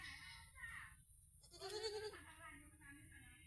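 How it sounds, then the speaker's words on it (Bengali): Village goats with young kids in rural Bangladesh bleating nearby, a few short wavering cries close together over a low background hum. "এই হচ্ছে আমাদের ছাগল,"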